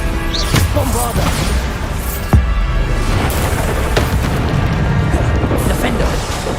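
Bombarda explosion spell cast in the game Hogwarts Legacy: loud, dense booming blasts with crashing debris and a sharp impact near the middle, layered over constant game noise and effects.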